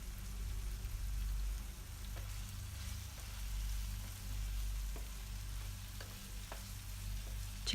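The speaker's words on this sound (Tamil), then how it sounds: "இப்போது 2 நிமிஷம் மூடி வச்சு வேக வைக்கலாம்." Pepper chicken cooking under a lid in a pan, a soft steady sizzle and crackle with a low hum beneath and occasional faint pops, quiet and continuous with no voices.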